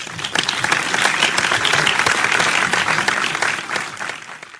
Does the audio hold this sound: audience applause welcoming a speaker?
yes